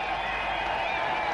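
Stadium crowd at an India versus Pakistan one-day international cricket match cheering and applauding a batsman's six, a dense, steady roar of clapping and shouting with no break.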